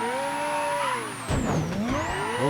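A car engine in Mafia 3 gameplay holds a steady tone for about a second, then surges louder into a gruff, gravelly rev whose pitch dips and climbs again, close and prominent with no talking.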